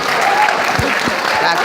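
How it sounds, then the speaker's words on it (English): A school audience applauds in a dense, steady burst of clapping, loud and close, lasting a couple of seconds without a break. "Clap."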